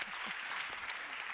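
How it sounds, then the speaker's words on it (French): Brief burst of audience clapping for group members at a conference workshop on women and AI, steady and fairly full throughout its short span. "Oui, on peut applaudir tous les membres du groupe."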